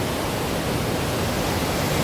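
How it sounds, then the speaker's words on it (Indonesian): Meltwater from a glacier rushes through the narrow rock-walled Grindelwald gorge, a dense, steady, close-up roar of churning water filling the whole short stretch with no voices. "airnya yang cukup keras ya, karena ini di antara tebing batu, jadi suaranya cukup menderu"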